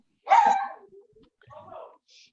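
A dog barks through a participant's microphone on an online meeting call: one sharp bark, then a softer yip a moment later, thin and compressed.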